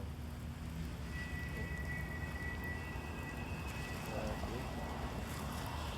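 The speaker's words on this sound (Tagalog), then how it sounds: "Grabe ng ulan, guys." Heavy, sudden rain pours outdoors beside a tree, a dense steady hiss filling the whole stretch while someone speaks briefly over it.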